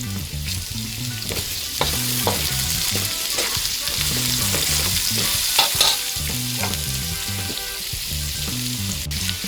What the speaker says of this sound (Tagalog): At isusunod ko na po ang luya.